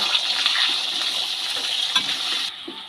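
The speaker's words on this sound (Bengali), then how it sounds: "তেলের মধ্যে আলুগুলো দিয়ে ভালো করে ভেজে নেব" Potatoes cut for a banana-flower curry frying in hot oil, a steady bright sizzle with faint stirring knocks that drops off sharply near the end.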